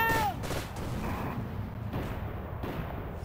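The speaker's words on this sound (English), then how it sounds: "Those are our mortars." Mortar rounds firing in the sci-fi military game Arma 3 with the OPTRE mod, a dense, rumbling barrage of booms and blasts under continuous combat noise, loud and close, with a brief whistling tone at the very start.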